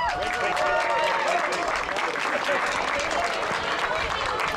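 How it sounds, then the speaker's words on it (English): An audience gives a steady round of applause outdoors, dense clapping holding level for several seconds, with voices and chatter mixed underneath. "Round of applause, everybody."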